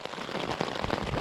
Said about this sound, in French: Vraiment il pleut de fou, il y a beaucoup d'orage.